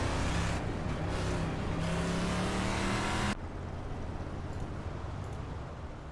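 Sim-racing game race cars weave behind a pace car on an oval, a loud continuous engine roar with a passing whine that drops off abruptly partway through to a lower, steadier drone.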